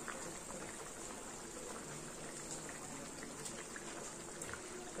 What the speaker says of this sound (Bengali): মাছের ঝোলও পুরো ফুটে গেছে, হয়ে এসছে।